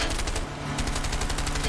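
Rapid bursts of gunfire from the video game A Way Out, dense continuous automatic shots filling the clip at steady loudness with game sound effects around them.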